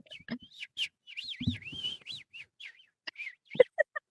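A person imitates morning birdsong with warbling whistles and quick chirps, a lively run of tweets that ends in short staccato peeps.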